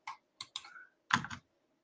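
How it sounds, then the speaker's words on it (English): Keys pressed on a computer keyboard to open the developer panel in the Chrome browser: a few crisp, close clicks in quick succession, with a short pause before a final pair of taps. "you need to press F12 on your keyboard"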